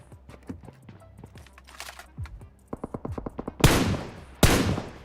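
Suppressed gunshots in PUBG Mobile fire as a quick burst of muffled snapping pops. Two louder, sharper cracks follow, with faint clicking and handling noises before them.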